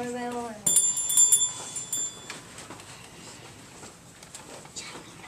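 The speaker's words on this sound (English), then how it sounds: "the doorbell rang" A doorbell chimes briefly near the start of a classroom story reading, a bright ringing tone over a narrator's voice, followed by quieter talk.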